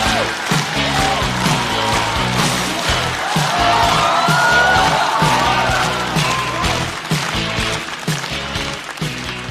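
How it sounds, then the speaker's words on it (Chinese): Studio audience at a Chinese stand-up comedy show breaks into sustained applause and cheering to welcome a guest, a steady dense wash of clapping filling the whole stretch with a loud rhythmic backing beat underneath. "掌声欢迎开花俱乐部的主理人小块儿"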